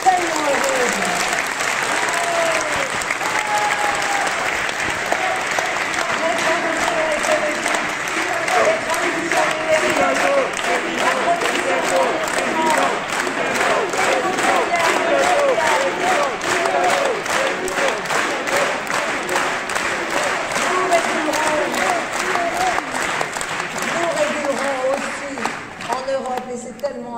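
A large crowd at Anne Hidalgo's January 2022 presidential campaign rally in Aubervilliers applauds and cheers loudly and continuously, the clapping settling into a steady rhythmic beat before it thins out near the end.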